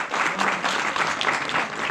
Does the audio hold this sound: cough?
no